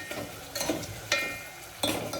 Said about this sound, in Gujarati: જો આ બધો દાળનો વઘાર